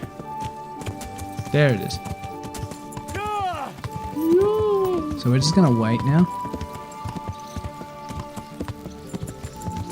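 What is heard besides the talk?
roan horse hooves in a video game (Kingdom Come: Deliverance)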